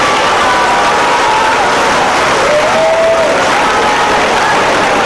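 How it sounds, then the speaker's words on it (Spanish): A large crowd at an outdoor political rally applauds for President Andrés Manuel, loud, sustained and dense clapping mixed with cheers and whistles throughout. "El aplauso para el presidente Andrés Manuel"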